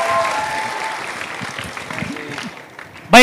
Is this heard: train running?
no